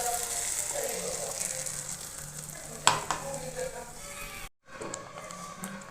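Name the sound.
tomato puree added to a sizzling pan for pizza sauce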